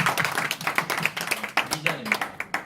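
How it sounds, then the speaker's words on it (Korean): An audience at a Korean business goal-setting training session breaks into a quick round of rhythmic clapping, sharp close hand claps repeating steadily with voices murmuring underneath. "박수 한번 쳐주십시오"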